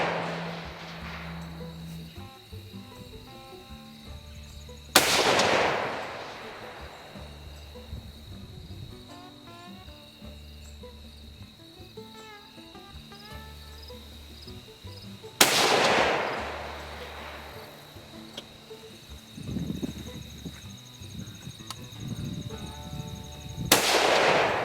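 Three loud, sharp shots from a Mossberg MVP rifle fitted with a muzzle brake, fired at a 400-yard target about ten seconds apart, each cracking close over a steady chirp of crickets.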